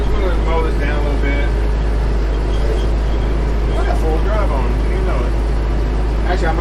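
A Mahindra tractor in 4-wheel drive mows a roadside ditch, its engine holding a constant low, close drone while someone talks over it.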